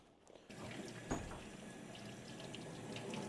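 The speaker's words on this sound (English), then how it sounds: "I got hot water going in here" Hot water running from a tap in a utility room, a steady broad rushing splash that starts abruptly and continues unbroken, moderately close, with no voices.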